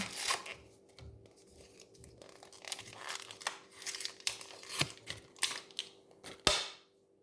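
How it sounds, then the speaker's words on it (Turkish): Packaging of a Dubai chocolate lip balm is torn and opened: soft crinkling and rustling with scattered sharp clicks and snaps, close and fairly quiet, no speech. "Dubai çikolatalı lip balm yapmışlar. Hemen şöyle açalım."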